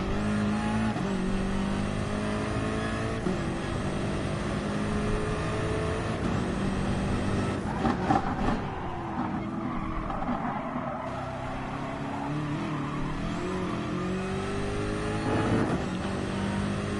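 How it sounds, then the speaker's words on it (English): BMW race car in Gran Turismo Sport at the Nordschleife, its engine droning steadily and close with rising and falling revs through gear changes, alone without talk for the whole stretch. "it's not a bad car, this Beamer, but it does understeer a bit."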